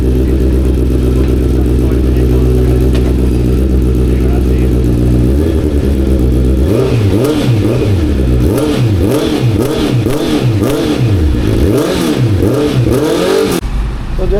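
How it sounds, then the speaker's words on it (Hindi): A Honda CBR650R motorcycle fitted with a new exhaust idles loudly and then revs repeatedly in rising and falling bursts. It is close and dominant, with a voice speaking under it. "ये आवाज़ है अपनी CBR की।"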